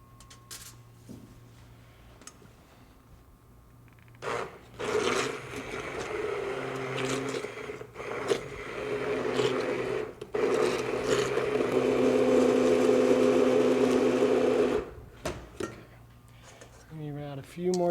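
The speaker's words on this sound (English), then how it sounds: "we're just going to puree all of this stuff. And I think a stick blender is perfect for this kind of thing." A stick blender purees cherries in bursts, its motor whirring with a steady pitched hum for several seconds at a time between pauses and shifts in load.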